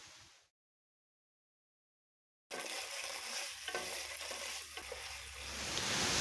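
Crab curry masala with chopped tomato frying in a pan while being stirred, a steady sizzle with scraping stirring sounds, rising slightly toward the end after a brief silent gap at the start.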